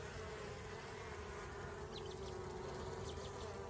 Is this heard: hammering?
no